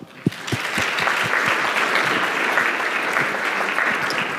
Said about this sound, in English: which I think deserves a round of applause